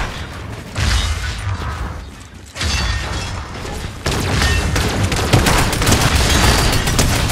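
Fortnite gunfire crackles in dense, overlapping bursts, loud and close, with booming shots and mechanical clatter running almost continuously throughout.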